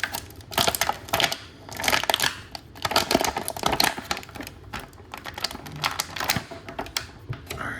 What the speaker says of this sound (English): crinkling noise is coming again